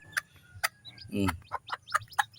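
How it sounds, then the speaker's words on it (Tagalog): Chicks pecking at feed on the ground: sharp, irregular taps close by, with a few soft peeps and one brief rustling burst over a low background hum. "Yung isang sisiw rin no, sa gilid, tumutuka-tuka na po."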